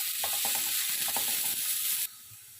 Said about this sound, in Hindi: प्याज को भी हम हल्का सा पका लेंगे, कोई इसका कलर वगैरह चेंज नहीं करेंगे